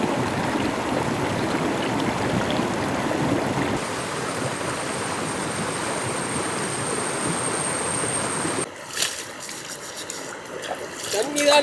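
Water runs and splashes steadily nearby as tapioca is washed for a Kerala kappa mutton curry, a continuous rushing flow that changes character near the end with clattering handling sounds.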